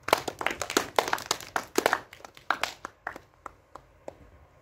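An audience applauds performers at a KVN comedy show with sharp, distinct claps. The clapping starts as a lively patter and thins out to a few scattered, decaying claps.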